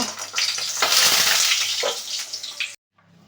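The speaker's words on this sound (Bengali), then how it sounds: "সবজি ভাজা তেলের মধ্যে বড়িগুলোকে ভেজে নেব" Bori lentil dumplings fry in hot vegetable oil that has just been used for frying vegetables, giving a close, steady hissing sizzle with bubbling swells before it cuts off abruptly.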